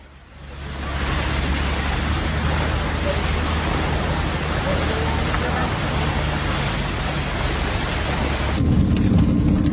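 A heavy hailstorm with thunder and rushing floodwaters, heard as a loud, dense, continuous roar of pounding ice and water that swells in quickly and holds steady, growing heavier with a deep rumble at the end.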